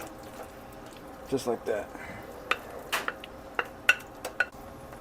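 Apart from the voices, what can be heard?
dumping chorizo dip ingredients into a pan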